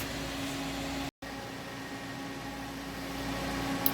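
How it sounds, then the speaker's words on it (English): Vacuum pump running steadily while pumping down a bell jar chamber on an SCS PDS 2010 deposition system, a constant mechanical hum and hiss with a brief dropout, no voices. "we'll put the bell jar back on, then we'll go ahead and enable this and turn the vacuum on"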